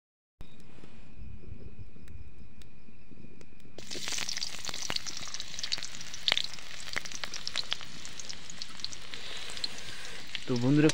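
Onions dropped into hot oil in a pan, breaking into a loud, steady sizzle that stays close and constant, with scrapes of stirring and a faint voice behind it.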